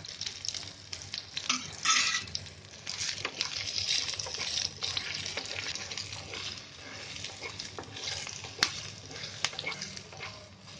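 Spices tempering in hot oil for a dahi bhendi (okra in curd gravy) with a pinch of asafoetida, giving a steady close crackle and sizzle with sharper pops throughout, no talking.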